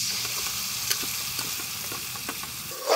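Spice paste sizzling in a hot pan with curry leaves and mustard seeds for dhaba-style dum aloo, a constant close crackling hiss with a few soft stirring scrapes.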